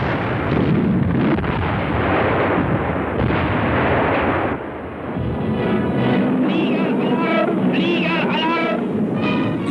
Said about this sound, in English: 20mm and 88mm FlaK guns provide a heavy barrage which takes its toll on a number of the Soviet aircraft